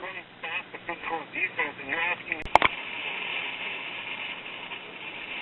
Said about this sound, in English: I don't like that static sound I'm hearing